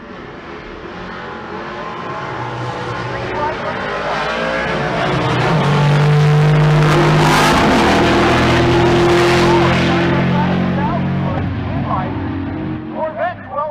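Drag racing cars including a Corvette thunder down the strip at a race week event at Pueblo, engines swelling to a loud peak mid-run then fading, with an announcer's voice running over it.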